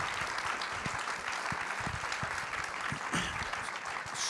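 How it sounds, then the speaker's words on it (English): An audience at a panel discussion on a carbon-free Boston report applauds, a steady patter of many hands clapping at moderate volume, fairly distant and without speech. "let's give our panel a round of applause"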